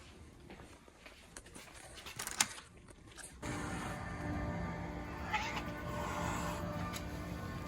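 A cat meows faintly amid clattering and rustling, likely outdoor stray cats at feeding, then a steady hum or rush of noise takes over for the rest.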